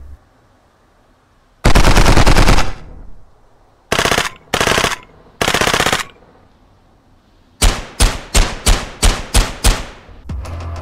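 Gunfire from weapons in a multiplayer first-person shooter game: a long sustained automatic burst, then three separate short bursts, then a rapid run of about eight sharp single shots, loud and close against near silence.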